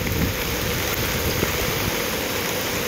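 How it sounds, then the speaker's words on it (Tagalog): Continuous heavy rain with gusting wind at a Skyway construction site on Paco Road, a dense, roaring wash of noise that stays steady and close throughout. "Dahil sa sobrang lakas ang hangin at saka ulan"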